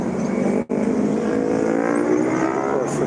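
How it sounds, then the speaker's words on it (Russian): Cars driving by on a street, a steady loud traffic roar with engine hum that holds throughout and dips briefly once. "А так машин уже вон сколько."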